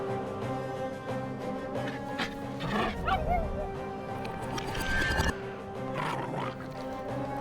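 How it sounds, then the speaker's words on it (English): A summoned bone dog in the PopUp Dungeon video game barks and growls in rough bursts amid continuous busy game effects and music. "let's summon a bone dog."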